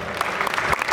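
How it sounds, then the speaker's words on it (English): An audience applauds contestants at a video DJ battle: dense, continuous clapping throughout, loud and close, with no voice rising above it. "give a round of applause for all 10 contestants entering this battle"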